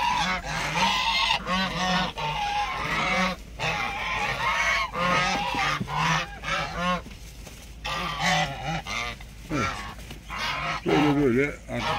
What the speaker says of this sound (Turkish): Kazlar da çıkmak için bana doğru geliyorlar.